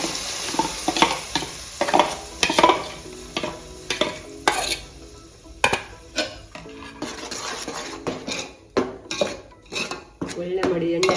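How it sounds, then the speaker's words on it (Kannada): Chopped masala with curry leaves is stirred and fried in oil, a spatula clanking and scraping against the pan in a rapid irregular rhythm of sharp knocks over a faint, constant sizzle. "ಒಳ್ಳೆ ಮಾಡಿ ಎಣ್ಣೆಯಲ್ಲಿ ಮಿಕ್ಸ್ ಮಾಡಿ ಸ್ವಲ್ಪ ಹೊತ್ತು ಫ್ರೈ ಮಾಡಲಿಕ್ಕೆ ಬಿಡಿ."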